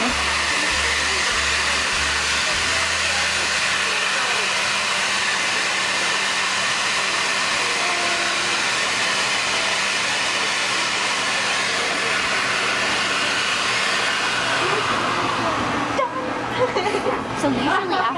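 A Build-A-Bear air blower roars steadily while fluffing a stuffed bear's fur, a loud continuous close whooshing hiss that cuts off near the end, with a voice talking over it.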